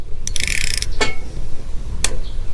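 Ratchet tightening a bolt on a riding mower, loud and close, with quick clicking bursts of metal ratcheting and a sharper torque-wrench click near the end.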